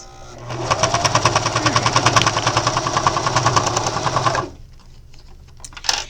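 A sewing machine runs steadily while stitching a faux leather bag liner, giving a loud, continuous rapid chatter for about four seconds before it stops abruptly. A faint knock follows near the end.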